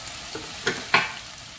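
A spatula scrapes across the bottom of a frying pan a couple of times over a soft, steady sizzle of stir-frying mapo tofu.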